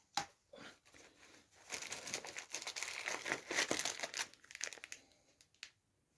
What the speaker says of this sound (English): I'm going to pull out the adhesive dressing